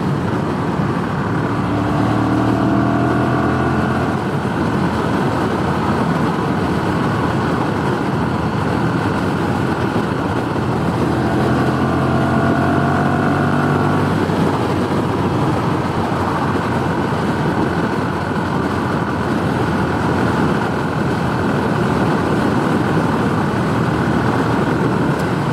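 Ducati Monster Evo 1100 motorcycle ridden across town, a steady loud engine drone with wind rush throughout, rising and falling engine pitch sweeping through gear changes twice, close and continuous with no talking.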